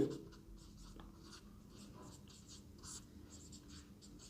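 Pen or chalk writing by hand during a class 10 maths lesson, a steady scratchy scraping in short strokes running throughout at moderate level, with no talk over it.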